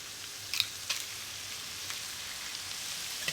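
Four large eggs are cracked into a hot pan for scrambling, with a couple of faint cracking taps followed by a quiet, steady sizzle and no talking.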